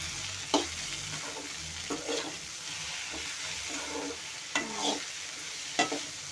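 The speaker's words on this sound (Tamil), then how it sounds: "வெண்டைக்காய் நல்லா வதங்கட்டும்" Okra sautéing in a pan, a soft low sizzle broken by a handful of spaced stirring scrapes and taps, close but quiet, with no voices.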